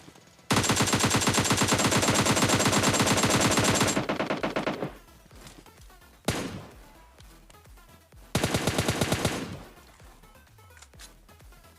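Rapid automatic gunfire in PUBG Mobile Lite, a long sustained burst, then a single sharp shot and another shorter burst, loud and close, no talking.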